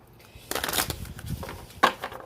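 Tarot cards are shuffled in a couple of quick riffling bursts, close up, with soft handling noises between.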